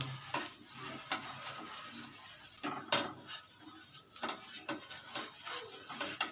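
A ladle stirring patishapta batter in a metal bowl, with irregular scraping and clinking taps against the side, quiet and close with no talk.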